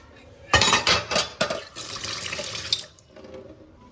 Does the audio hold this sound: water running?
yes